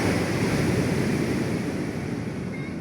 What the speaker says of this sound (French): aujourd'hui, il y a beaucoup de vagues